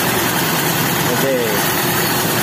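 A Toyota Kijang Super engine idles steadily and loudly up close, its constant drone carrying a faint ticking, with a voice speaking briefly over it.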